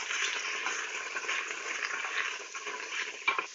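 Chopped onion, celery and bell pepper sauté with salt in a stock pot for fat-free gumbo, giving off a steady, close sizzle with faint stirring scrapes and no talking.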